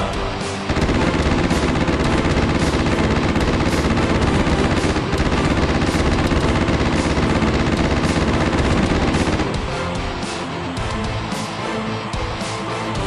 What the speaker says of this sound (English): the Goliath gunners open up